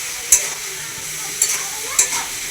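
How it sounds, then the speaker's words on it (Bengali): Ground spices with chilli powder sizzle steadily in a hot pan as they are fried, and a spatula scrapes through them three times in crisp, close strokes. "তো এটা ভালো করে কষতে হবে আগে মশলাটাকে"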